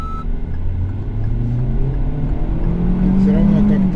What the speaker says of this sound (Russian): Сейчас попробуем стартануть с двух педалей.